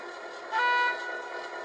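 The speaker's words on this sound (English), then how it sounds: "F2 is the horn." A model 121 Class locomotive sound decoder sounds its horn, one short, loud, clear toot lasting roughly half a second over a steady background drone, with no talking.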